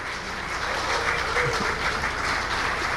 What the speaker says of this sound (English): With a standing ovation and a round of applause